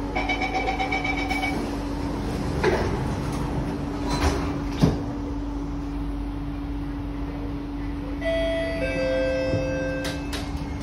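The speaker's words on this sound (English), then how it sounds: "Doors are closing." Sliding doors of a Kawasaki Heavy Industries CSR Qingdao Sifang C151B SMRT train closing at a station, with chimes, soft thuds and steady motor hum inside the carriage.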